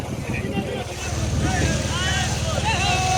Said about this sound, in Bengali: এগুলো হচ্ছে নৌকাটা ফিরে আসছে